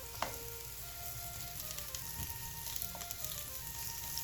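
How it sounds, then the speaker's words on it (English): Chopped onions sautéing in a pan over high heat give a steady, close sizzle and crackle, with occasional stirring scrapes and small pops, no voices. "we put the onions in the pan, and we're gonna saute it for about 20 seconds"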